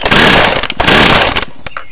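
A small weed eater engine is cranked over with a rubber-tip compression tester fitted in its spark plug hole, producing two loud, rough, rapid churning bursts close up, each cutting off sharply, followed by a brief faint click.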